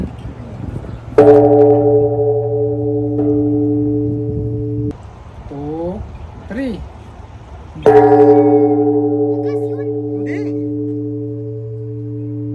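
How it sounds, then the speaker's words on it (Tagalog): A large bell at the Nikka Yuko Japanese Garden struck twice, each strike ringing loud with a long, steady hum, with voices talking between the strikes. "subukan nating i-try i-ring yung bell"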